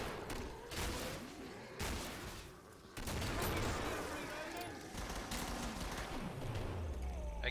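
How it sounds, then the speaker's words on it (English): Gunfire from the video game Killing Floor crackles in dense, continuous volleys, with rapid shots and bursts layered throughout at a low overall level. "they're continuing to shoot it"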